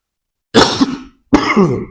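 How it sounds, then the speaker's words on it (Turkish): Two harsh coughs from a man with the flu, close to the microphone, separated by a short pause, loud and raspy against silence. "Öksürük falan var kusura bakmayın."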